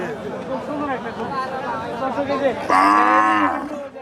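A black local desi cow at a cattle market gives a loud, drawn-out moo near the end, with market chatter and people talking throughout.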